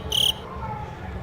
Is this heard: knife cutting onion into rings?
no